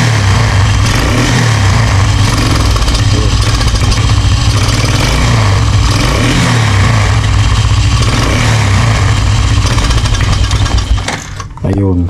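Motorcycle engine with a faulty, flooding carburetor revving loudly and steadily at close range for most of the time, then sputtering and dropping off near the end.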